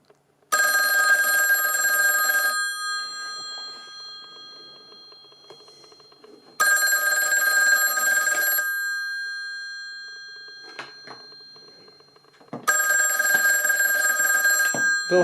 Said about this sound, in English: This should ring the Western Electric.